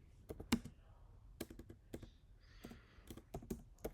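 A command is typed on a computer keyboard while configuring a router: irregular, distinct key clicks spaced through the clip with a few quick doubles, close and quiet, with no talking.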